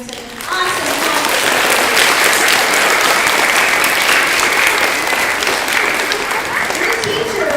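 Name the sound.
children applauding themselves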